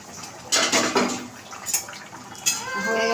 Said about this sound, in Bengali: ঢাকাটা খুলবো।